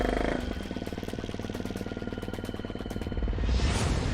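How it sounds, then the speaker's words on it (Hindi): A motorbike engine sputters to life and settles into a steady, fast-pulsing idle, fairly close and heard alone with no talking. "यह देख मैंने जैसे तैसे बाइक चालू की और वहां से निकल गया।"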